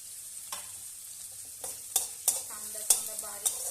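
Onion and curry leaves fry in a pan for a Maharashtrian potato bhaji, with a soft, steady sizzle broken by several sharp spoon scrapes and stirring clanks, heard close.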